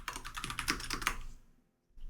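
Rapid typing on a computer keyboard at a desk, a close, quick run of key clicks lasting about a second and a half before stopping into near silence.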